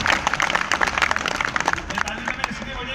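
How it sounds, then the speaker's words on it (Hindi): An audience at a Hindi kavi sammelan poetry gathering claps loudly, a dense, sustained patter of many hands, with a voice heard over the applause. "एक बार जरा इनके लिए जोरदार ताली बजाओ"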